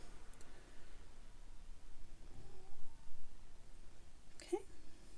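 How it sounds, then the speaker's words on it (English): Luna the cat gives a faint trill and meows at the door in a quiet room, brief soft calls against low background hiss. "If you hear the trilling and the meowing,"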